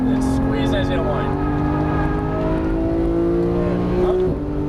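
A Porsche GT3 accelerating hard on the track at Las Vegas Motor Speedway, a loud sustained engine drone with rising harmonics heard from inside the car, with a driving instructor talking over it.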